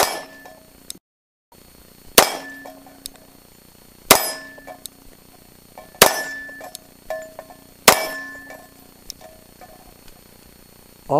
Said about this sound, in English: So let's see how it feels to shoot this little guy.